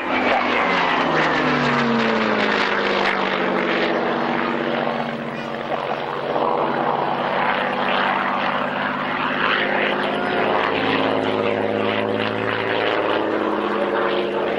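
A Bf 109 Gustav fighter flies past at a military airshow, its piston engine droning loud and steady throughout with rising and falling harmonic tones as it passes.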